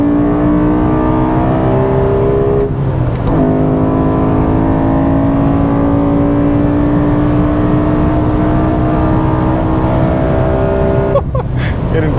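BMW M5 high-revving M engine climbs hard under full throttle, its loud, close, harmonic howl rising steadily with brief breaks for gear shifts, ending in another sharp climb.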